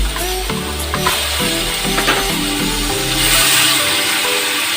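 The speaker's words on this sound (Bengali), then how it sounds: "এটা একটু লাল করে ভেজে নিই" A paste of ginger, garlic, green chilli and onion fries in a pan with a loud, steady sizzle, while rhythmic scraping and stirring clatter runs through it.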